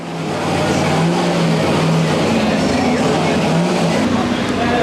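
A Falcon Corvette drift car with about 1,250 horsepower pulls in at a drifting event, its loud engine a continuous near roar with a steady low rumble and slight pitch swells throughout.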